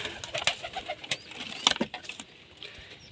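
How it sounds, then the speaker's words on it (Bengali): Racing pigeons in a loft, some sitting with chicks, make soft repeated coos close by, mixed with brief wing flutters and rustling. No one speaks. "এই যে এটা হলো রেসার পায়রা"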